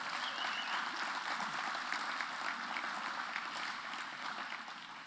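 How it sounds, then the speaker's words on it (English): An audience gives Anna another round of applause at the 2022 Jamil Dada Awards Ceremony, a steady, moderately loud wash of crowd clapping that carries on evenly for several seconds. "Let's give Anna one more round of applause."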